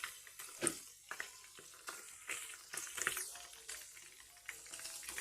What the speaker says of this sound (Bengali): আমি ওইগুলো ভেজে নেব